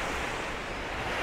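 Rough sea surf pounding the shore at East Coast Beach, Singapore, a dense, steady roar of breaking water mixed with wind buffeting the microphone, close and unbroken, with no voices.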